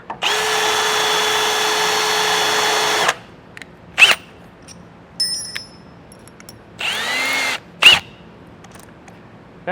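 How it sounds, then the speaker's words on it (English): A power drill with a 17/32 bit whines steadily for about three seconds while boring holes through a base plate on a 2023 Jeep, then gives short bursts and another brief run amid small metallic clicks and handling noises. "I'm gonna go ahead and drill out these holes, use these as a template. I have a 17/32 drill bit."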